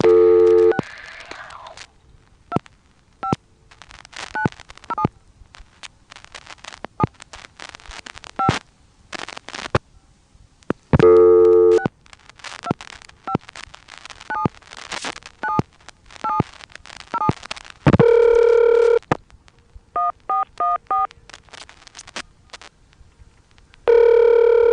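Dialing and line signals pass through an ITT Pentaconta crossbar telephone switch in Asheboro, North Carolina, in 1986: loud tone bursts, sharp relay clicks and rapid beeping cadences, with busy-style steady tones recurring throughout.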